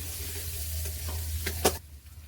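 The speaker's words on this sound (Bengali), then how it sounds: "এই তেলের মধ্যে দিয়ে দেবো বাঁধাকপির জন্য কেটে রাখা আলু" Cut potatoes for a cabbage dish sizzle and fry in hot oil, a steady close crackle with a brief sharper spatter near the end.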